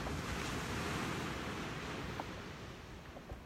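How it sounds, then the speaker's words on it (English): Waves washing onto a chilly Gulf of Mexico beach, a continuous soft roar of surf mixed with wind buffeting the microphone, fairly faint and with no voices. "And here's the beach to the north."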